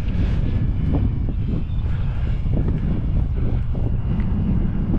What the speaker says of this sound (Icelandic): Hún er komin strax í loftið sko.